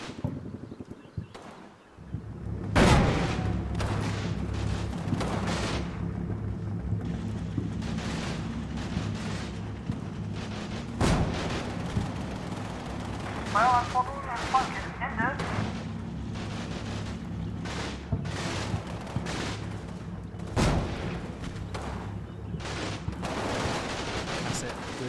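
Canister shot artillery and gunfire in a battle video game set in the fortress of Italy, with repeated sharp blasts and scattered shots over a steady low rumble, while people talk throughout.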